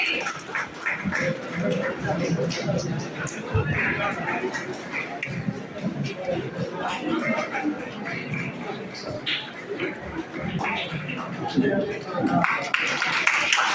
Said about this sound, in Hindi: आप सभी उनका तालियों से स्वागत करेंगे।